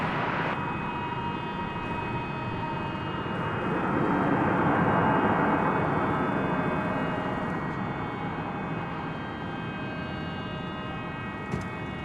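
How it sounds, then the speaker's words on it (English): An American Airlines Airbus A321 touches down at DFW after a flight from Denver, its steady roaring jet engine noise with a whining tonal hum swelling slightly mid-pass, then easing off, fairly close and with no talk. "Here comes American Flight 1618, touching down from Denver, Colorado."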